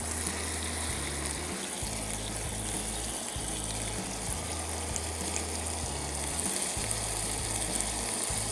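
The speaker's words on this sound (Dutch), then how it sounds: "We gaan de paprika toevoegen." Bell pepper added to chorizo and chicken frying for a camping paella, giving a steady, loud sizzle and crackle that runs unbroken throughout, with no voices.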